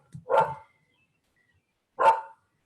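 A dog barks twice indoors, two short, moderately loud woofs about a second and a half apart, with quiet in between and no talking.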